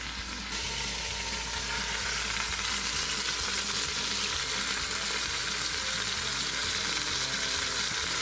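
Loud, continuous sizzling and crackling of a beef roast searing in a hot pan, close up and steady throughout.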